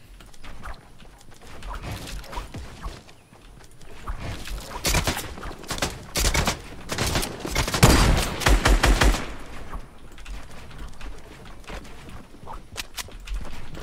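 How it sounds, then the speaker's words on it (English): Distant gunshots in the Fortnite video game ring out as scattered, irregular cracks, thickening into a denser cluster of shots midway before thinning out again. "Distant shot."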